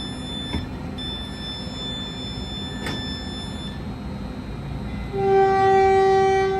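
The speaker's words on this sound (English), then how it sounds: "Caltrain 130. Highballing out of Menlo Park Station." Caltrain 130, a southbound local, departing Menlo Park Station: rail noise and a couple of short tones, then a loud sustained horn blast rises near the end and holds.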